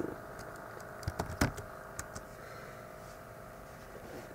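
Sparse keystrokes on a computer keyboard while text is entered in Canva, a few soft clicks clustered near the start and then fading into quiet room noise.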